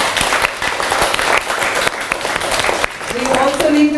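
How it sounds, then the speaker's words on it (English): An audience applauds for Jackie Brown at a children's museum holiday book event, steady clapping filling the room for several seconds with some voices mixed in near the end. "give a big round of applause once again to Jackie Brown"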